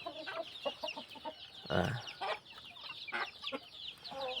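Chickens cluck in short, close bursts, with one louder squawk in the middle; no one speaks.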